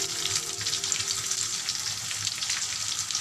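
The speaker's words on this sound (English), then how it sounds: "ipa-fry lang natin siya hanggang sa mag-golden brown on both sides" Pompano fish and ginger frying in a pan of hot oil, a steady close sizzle with fine crackling spatter throughout and no talk.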